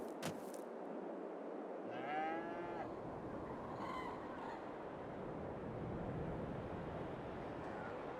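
Cows mooing in the Farming Simulator 22 video game, a few drawn-out moos at moderate distance over a steady farmyard ambience, with no talking.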